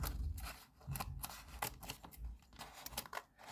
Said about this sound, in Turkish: Bunu açıyoruz şöyle yırtılır diye korktuğum için hep şöyle açıyorum.